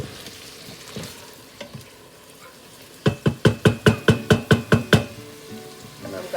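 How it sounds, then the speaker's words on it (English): Sausages frying in a pan, a soft sizzle under a rapid run of about a dozen sharp rhythmic knocks in the middle, then the sizzle carries on quietly. "Gonna let these sausages fry up."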